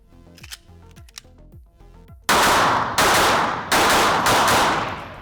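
Four loud, close gunshots ring out in an uneven sequence during a live-fire drill at open targets 5 and 7 yards away, aimed with an enclosed solar micro red dot sight; quieter mechanical clicks come before them.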